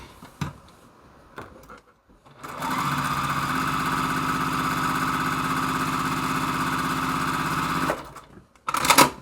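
A sewing machine stitches a quilt block, a steady fast mechanical whir that runs for about five seconds, framed by a few soft handling clicks and thumps before and after.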